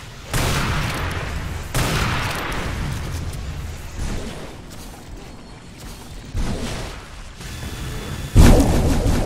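Bio rifle web shots and explosive weapon fire in an Unreal Tournament 4 duel on DM-ASDF, a dense run of loud booming blasts and bursts with a sharp heavy hit near the end, no talk.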